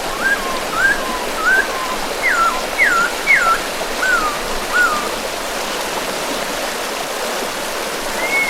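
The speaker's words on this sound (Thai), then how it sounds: "เสียงน้ำไหลเสมอม่วนเนาะ" A stream of water flows steadily beneath broadband wash, with a series of high chirping calls repeating across the first five seconds and once more at the end.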